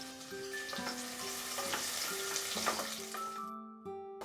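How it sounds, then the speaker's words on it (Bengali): Long-cut carrot strips fry in a pan over a medium flame, giving an even, close sizzle with light stirring scrapes, and sustained tones play alongside. "মিডিয়াম ফ্লেমে আমি এটাকে ফ্রাই করে নিচ্ছি।"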